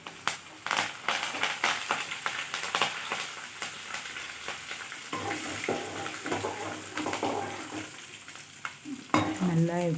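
Curry leaves and asafoetida crackling in hot oil for a pongal tempering, loud popping and spattering sizzle with scraping stirs, the bursts easing midway then flaring again near the end.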